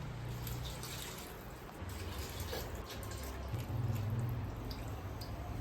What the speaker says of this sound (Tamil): ரெண்டரை கப்பு தண்ணி ஊற்றணும்.